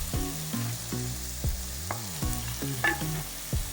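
Onions and chillies frying and being stirred in a pan for Maharashtrian poha, with a steady close sizzle broken by repeated scraping strokes of a spoon.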